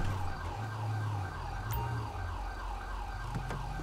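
Ambulance siren in Grand Theft Auto V with the LSPDFR mod, a loud wailing siren cycling repeatedly up and down, with a low engine hum underneath and no talk.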